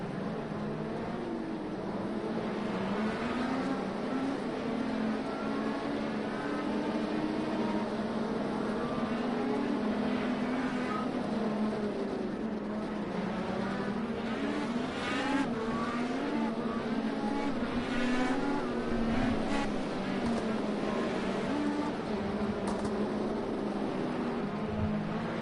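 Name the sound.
IndyCar race cars on formation lap, from a racing video game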